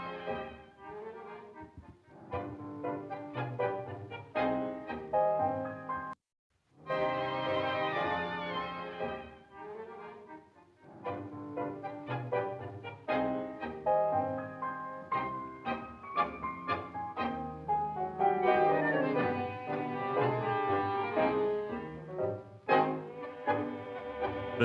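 Violin carrying the melody in the 1942 recorded tango Mishiadura by Donato, with ensemble accompaniment underneath: mournful, sustained phrases and rhythmic accented passages, one brief pause partway through, played back as a recording with no talking.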